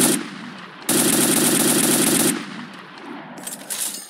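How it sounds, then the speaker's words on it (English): A light machine gun in a video game fires one sustained, loud automatic burst for about a second and a half. Scattered shorter shots and softer mechanical noises follow. "This is just me practicing my shooting."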